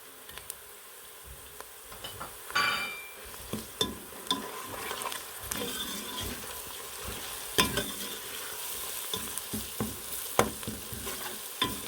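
Steady sizzling and crackling of garlic paste frying in a pan with browning onions, with occasional scraping stirs and clinks, no voices.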